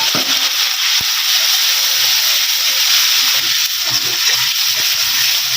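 Ground spice paste hits hot oil with a loud, steady sizzle and hiss that fills the pan up close, a single soft knock near the start and faint stirring sounds beneath the continuous frying.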